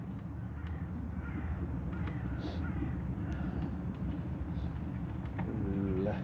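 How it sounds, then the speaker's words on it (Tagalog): Birds call in the dim, foggy early morning while hunting for food, with a few faint crow-like caws and chirps drifting from a distance over a steady rumble of traffic or wind. "dyan pa rin yung mga ibon. Naghahanap pa rin yung iba."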